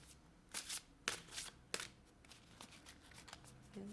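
A deck of cards is shuffled close by in several quick riffling bursts, each a brief crisp flutter separated by short pauses.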